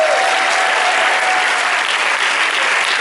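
Loud, dense audience applause fills a film premiere hall, a steady wall of clapping with some crowd noise as the lead actors of As Bestas are welcomed on stage.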